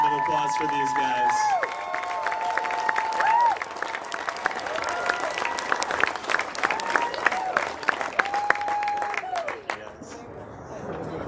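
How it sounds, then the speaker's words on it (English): Crowd applause and cheers at the World's Toughest Mudder 2022 champions awards, sustained clapping with shouts and whistles layered over an announcer's amplified voice and background chatter. "Another round of applause for these guys."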